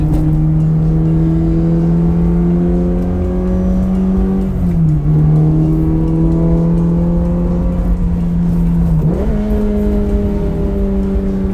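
A Subaru BRZ ZD8 with an aftermarket road-legal muffler drones steadily from inside the cabin while driving, a loud, even engine note that rises slowly in pitch, dips briefly at a shift, then climbs again, with no talk.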